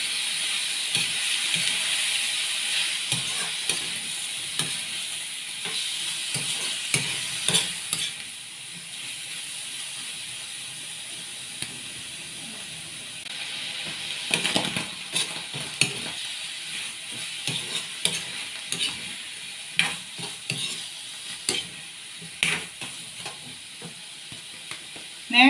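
Mixed vegetables with mushroom frying in a pan, stirred with soft scraping and clatter over a steady sizzle, close and moderately loud, with no talking.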